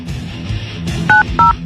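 Touch-tone telephone dialing of a cell number: two crisp, loud DTMF beeps in quick succession near the end, over a low background hum.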